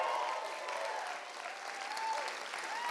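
An audience at the 6 Degrees Toronto 2019 event gives a round of applause, a continuous, full crowd clapping that holds throughout at a steady, moderately loud level.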